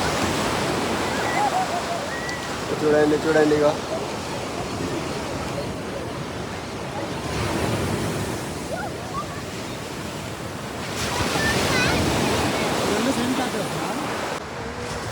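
Ocean surf rolls steadily onto a beach in Pondicherry at sunrise, a continuous broadband wash that swells louder near the end, with people talking over it.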